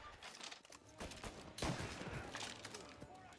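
Gunfire in the Mafia Definitive Edition video game, with a burst of shots and a louder blast midway amid game noise, fairly quiet overall.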